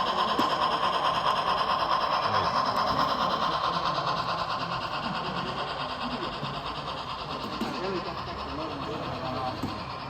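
Narrow gauge steam locomotive number 49 rounding a tight curve at a railroad show, heard as a steady rumble of engine and wheels with a high squeal, loud and continuous, with people talking nearby.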